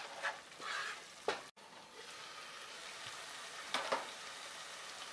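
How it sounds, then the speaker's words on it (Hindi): Chole masala frying on medium heat, a soft continuous sizzle with a few louder stirring scrapes and spattering bursts, fairly quiet overall. "और अब हम इसे फिर से मीडियम आंच पे 4 से 5 मिनट भून के तैयार करेंगे।"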